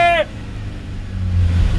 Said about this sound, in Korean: 이제 엑셀 붕.